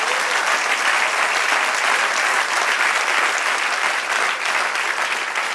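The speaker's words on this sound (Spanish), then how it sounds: "Den otro aplauso al Señor." A church congregation applauds, a loud, continuous, even wash of clapping with no break for the whole stretch.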